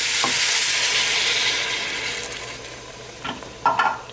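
Chopped vegetables for a carrot and coconut soup are stirred with ginger and garlic in a pot, giving a steady close sizzle that fades gradually, then a few sharp scraping clinks of the spoon near the end.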